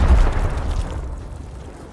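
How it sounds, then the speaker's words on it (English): A grenade explosion in the turn-based tactics game Gears Tactics, a loud low boom that rolls out into a fading rumble, heard alone. "He won't feel that explosion."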